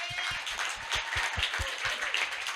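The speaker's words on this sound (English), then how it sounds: "So please give a last round of applause for them." An audience at a hip hop event applauds in a lively round of clapping, over a rhythm of deep, regular thumps, like stomping or a beat, underneath.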